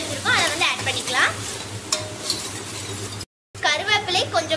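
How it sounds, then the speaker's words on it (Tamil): Onions, chillies and tomatoes sauté in a pan with curry leaves, mint and coriander for nonbu kanji, giving a soft sizzle with intermittent stirring scrapes and clinks, close by. A short silent gap interrupts near the end. "போட்டு நல்லா வதக்கிக்கலாம்"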